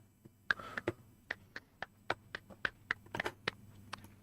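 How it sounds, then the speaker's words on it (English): One person clapping hands slowly, about a dozen separate claps with uneven spacing, close and fairly quiet against a soft background hum. "A little round of applause from me to you"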